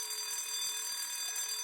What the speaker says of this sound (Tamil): இது அலாரம் ஆஃப் பண்ணணும் தலைவரே